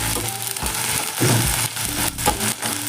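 Finely chopped onion sautés in a pan with dried red chillies for a cluster bean and peanut curry, a loud, close, continuous crackling sizzle with rough swells as the pieces shift.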